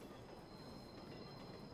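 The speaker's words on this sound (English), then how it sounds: "And then I heard the sound of the train coming in above me as if it were mocking me." A train pulls into a station in the visual novel game ChäoS;Child, a steady continuous rumble of rolling rail cars with a thin high whine running throughout, close and uninterrupted.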